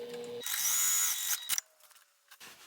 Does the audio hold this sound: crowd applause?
no